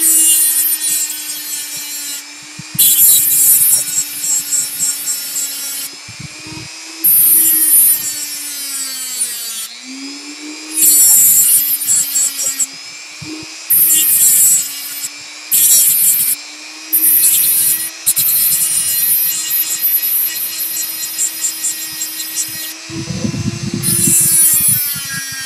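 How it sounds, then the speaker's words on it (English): A Dremel rotary tool grinds flat the end of a length of music wire for a tension bar, a steady high whine with repeated short bursts of harsh grinding as the wheel touches the steel, close and loud throughout. "I'm going to just use the Dremel and flatten it off"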